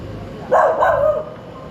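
A single dog barks and yelps once in a short burst at moderate distance, followed by quiet background.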